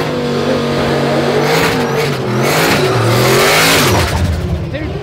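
No-prep small-tire drag race car doing a burnout, a loud, sustained engine roar with rising and falling revs and tire squeal, close by, with voices talking over it.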